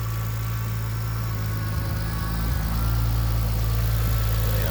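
A turbocharged Lexus IS300 idles steadily just after its blown turbo was replaced, giving a close, loud, continuous low engine drone with an even mechanical hum and no talking.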